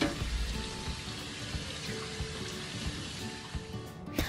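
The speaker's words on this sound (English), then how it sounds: "Put all veggies to strainer and wash it down well." Vegetables for a Swedish salad rinsed in a strainer under a steady stream of tap water, a continuous close splashing hiss with small clatters, alone without talk.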